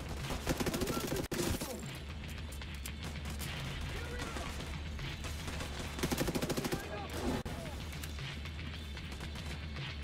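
Gunfire and bursts of combat noise from The Division 2 fill the scene, with dense rapid shots and a couple of louder blasts as an incendiary grenade goes off, all continuous and loud throughout.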